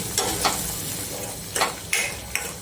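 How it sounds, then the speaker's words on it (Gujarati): A spoon stirs cashew masala curry quickly in a hot pan, making several sharp scraping strokes over a steady close sizzle. "આપણે ફટાફટ એકદમ મિક્સ કરી લઈશું, હલાવીશું"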